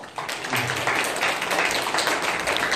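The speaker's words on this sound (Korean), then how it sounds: "이분들에게 하나님이 좀 힘을 주시도록 한번 박수를 격려해 드릴까요?" A church congregation claps in encouragement, with steady, dense, loud applause filling the whole moment from just after the start, no voices standing out.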